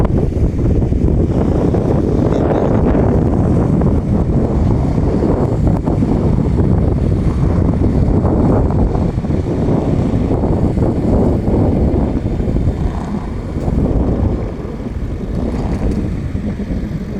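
A sightseeing boat rides out to sea, its engine droning under heavy wind buffeting and the rush of water, loud and continuous throughout.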